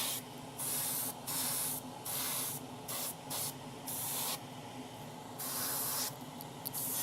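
An airbrush sprays silver Zero Paints onto a 1:12 model motorcycle rear swing arm in short hissing bursts of about a second each, with brief pauses between passes, close up and without talking.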